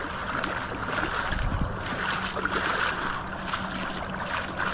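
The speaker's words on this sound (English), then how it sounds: "There's literally a whirlpool in this golf course." Floodwater rushing and swirling through a flooded golf course, forming a whirlpool: a continuous broadband roar and wash, moderately loud and steady, with no voices.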